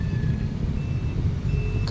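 Road traffic near the market in Taytay, a steady engine rumble from cars and trucks close by, with thin tonal beeps like a reversing alarm drifting over the hum and no talking.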